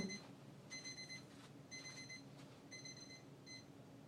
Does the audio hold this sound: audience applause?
no